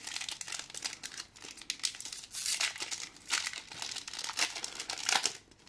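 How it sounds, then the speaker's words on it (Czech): Foil wrappers of Pokemon Lost Origin booster packs from an Elite Trainer Box being torn open and crumpled, a close, loud crinkling that comes in repeated bursts with no talking. "dneska si otevřeme Lost Origin Elite Trainer Box"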